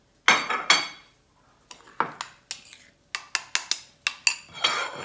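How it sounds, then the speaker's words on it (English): Ceramic plate and utensils are set out while plating cod cakes, giving a series of sharp close clinks and knocks in an irregular rhythm with short quiet gaps between them. "Just gonna set up my plate"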